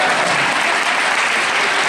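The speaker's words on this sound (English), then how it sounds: "Everybody give Jesus a round of applause." Dense, loud audience applause fills a convention hall at a My Little Pony: Friendship is Magic directors panel, a continuous wash of many hands clapping with no break.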